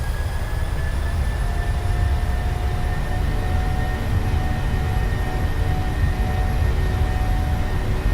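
Jet engines of a PMDG 737-700 in Microsoft Flight Simulator at takeoff thrust give a loud, steady roar with a broad rumble and a faint high whine, continuous and unbroken throughout.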